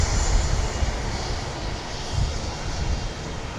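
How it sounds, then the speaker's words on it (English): At the Blackpool Airshow, a jet aircraft's takeoff gives a steady, broad roar that stays close and loud throughout, with no voices over it. "Nice jet that, isn't it?"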